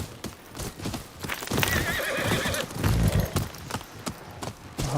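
Horse hooves clip-clop at a gallop with a loud neigh, in the video game Ghost of Yotei, mixed with busy game sounds and effects throughout.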